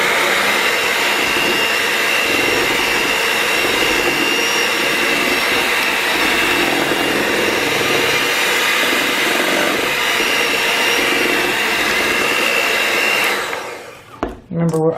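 An electric mixer stirs cake batter for a strawberries and cream cake on low speed, a loud, steady whirring drone that runs unbroken before cutting off abruptly near the end.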